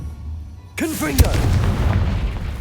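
A Confringo fire blast spell is cast in Hogwarts Legacy: a sudden whooshing burst with swooping tones, then a heavy booming impact, followed by a sustained loud rumble.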